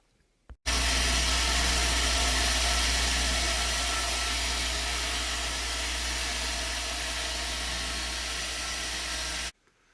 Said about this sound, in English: I'm going to put this on a wire brush, a wire wheel, and just try to smooth it out, clean it up, and polish it